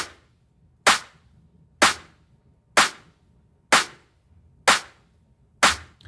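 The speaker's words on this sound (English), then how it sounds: "So we have 4 different clap sounds." Tech house clap samples from the Evolution of Sound pack, seven crisp, bright, dry claps played alone at a steady, even interval of just under a second, each with a quick attack and short decay.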